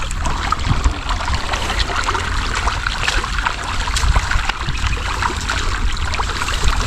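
Irrigation water rushing steadily in a continuous loud, close gush with a churning, splashing texture and no pauses, with no voices heard over it.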